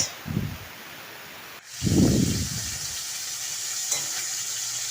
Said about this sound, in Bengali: এবার ভেজে নিচ্ছি লাল করে ভেজে নেব